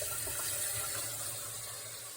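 Water runs steadily from a tap, a continuous close hiss and trickle as it is poured out to give a resting bird a drink.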